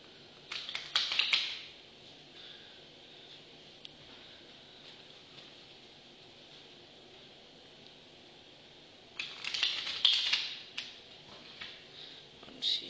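Playing cards are riffled together during a card trick, making two brisk bursts of rapid fluttering clicks separated by a long quiet stretch, close and without speech.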